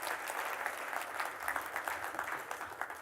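An audience claps for a volunteer called up on stage: a fairly faint, even patter of many hands that continues throughout with no one speaking.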